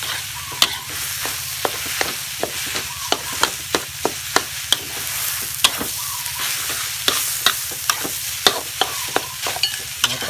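Rice is stirred and toasted in a hot pan, with a steady dry sizzle and frequent sharp scraping clicks of a utensil against the pan at an irregular rhythm, with no one speaking.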